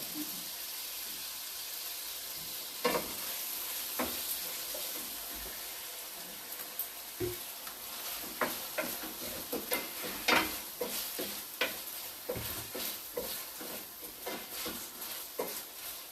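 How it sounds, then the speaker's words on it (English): Teriyaki sauce is stirred into food frying in a pan, giving a soft steady sizzle with intermittent scraping stir strokes, fairly quiet and without talk. "we go in with the teriyaki sauce. Stir it well."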